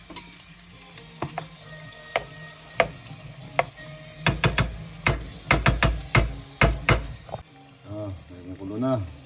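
Pork binagoongan cooking with shrimp paste in a pan, bubbling and sizzling at a steady level, then a run of loud clattering knocks from utensils hitting the pan, followed by a short rush of stirring.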